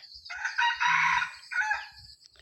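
A jungle fowl rooster crows once, close and loud, a short broken call in several clipped bursts ending with a final higher note.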